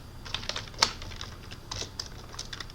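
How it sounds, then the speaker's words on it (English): Quick, irregular clicks of keys being typed on a computer keyboard, close and fairly quiet, with one sharper keystroke early on and no talking. "we're going to type password, and we're going to type charset"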